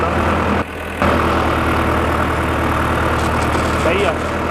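A struggling Ford tractor engine runs at a steady low idle-like drone, close and loud, briefly dipping for a moment before resuming, with someone talking over it.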